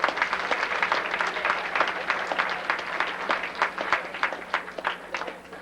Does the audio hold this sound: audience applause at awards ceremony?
yes